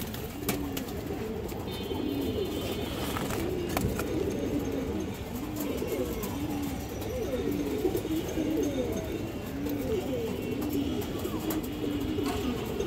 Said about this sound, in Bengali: এখানে একটা মাদি কবুতর আছে